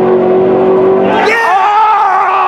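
A race car at a drag racing event roars past at full throttle, a loud sustained engine howl whose pitch climbs sharply as it accelerates down the track, with no voices.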